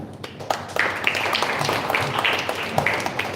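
Audience of parents clapping at a live student talk event in a school, a steady spread of applause at moderate distance with no speech over it.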